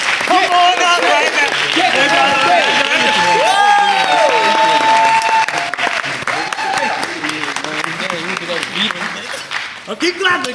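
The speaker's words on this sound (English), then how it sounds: "Oh, keep clapping, keep clapping." Loud audience applause with cheering and whoops from a crowd fills the whole stretch, steady and dense, thinning slightly near the end, with voices shouting over the clapping.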